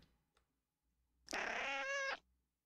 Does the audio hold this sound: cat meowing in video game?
yes